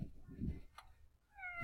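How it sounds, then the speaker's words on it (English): A cat meows with a drawn-out tonal call from the Hello Purr app on an emulator, heard near and fairly quiet, preceded by low murmuring speech. "Let's just make the cat purr one more time."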